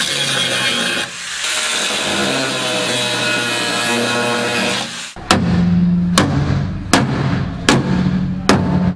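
A Nissan 350Z car body being cut apart, first a loud, steady grinding cut through metal, then a series of sharp, ringing hammer blows struck at a regular pace, close up and without speech.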